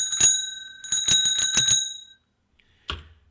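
A bright bell is rung by a program running on an Intelitek ScorBOT ER 4U robot arm. It gives a quick run of clear dings, then a pause and one final ring, heard alone.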